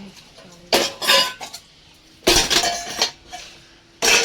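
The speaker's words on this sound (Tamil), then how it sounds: "பாத்திரம் கழுவி வைக்கிட்டு இருக்க." Dishes and pots being washed by hand in a home kitchen, with bursts of clattering, clinking and scraping close to the microphone, separated by quieter pauses and running water.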